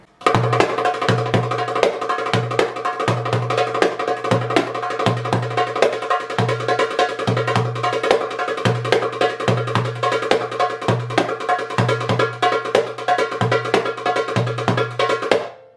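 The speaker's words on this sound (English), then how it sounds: "Here's what it sounds like with the Saidi rhythm." Darbuka drumming in a steady, fast Saidi groove: deep bass strokes on a recurring pattern, with sharp rim taps filling between, close and loud throughout.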